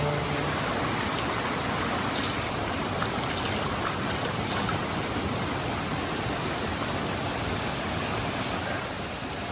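Cold stream water rushing steadily over rocks at a water crossing on a monsoon trek to Tambdi Surla Waterfall in Goa, a dense, continuous hiss heard close and alone.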